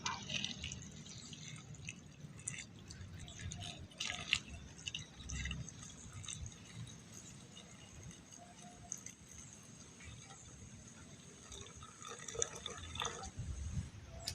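Liquid poured over a filter during ceramic-process gold recovery, giving a steady wet trickle with scattered drips and splashes that carry on throughout.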